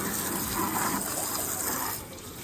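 Water spraying onto a 40-year-old Mercedes W124 during a car wash, a steady close hiss and splatter of a hose stream that drops slightly in loudness near the end.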